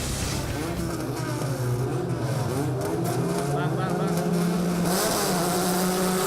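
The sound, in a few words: Formula 4 race cars starting a race on a wet track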